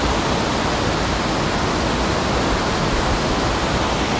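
A noisy waterfall roars in a loud, constant, broadband rush that stays unchanged throughout, with no speech over it.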